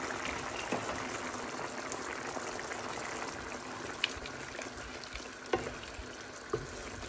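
Meat for tehari simmers in a pot over a low flame with a steady, soft sizzle and bubbling. A few faint clinks and stirs break through now and then.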